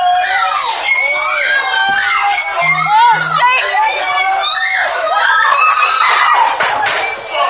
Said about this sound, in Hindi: मैं एक आवाज आपको सुना दूं जो जामिया के लड़कियों के चीख किसी ने अभी तक नहीं सुनी होगी